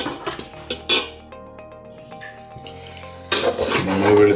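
Spoon scraping and clinking against a pan while coconut oil, turmeric and chili powder are stirred and lightly roasted, with intermittent metallic clinks and a louder scraping burst near the end; no talking.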